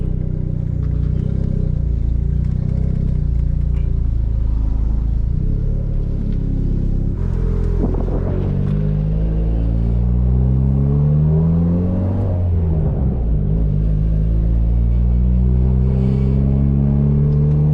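Turbocharged Honda Civic idling and then pulling out of a driveway, a steady loud engine drone with rising revs and gear changes, close to the car and with no voices.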